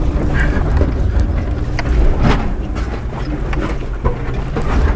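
A Lexus GX 460 off-road 4x4 crawling up a loose rocky hill in 4-low first gear: a continuous low engine rumble with rattling and scraping, wind buffeting the microphone throughout.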